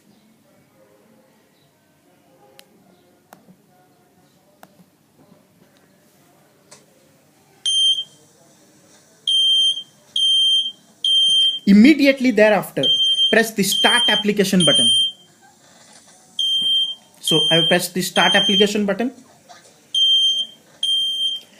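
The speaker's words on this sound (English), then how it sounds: "So let's start the home fire alarm sounds." A home fire alarm sounds in repeated bursts of shrill, high beeping, loud and near, with a voice talking between and over the beeps after an initially quiet stretch.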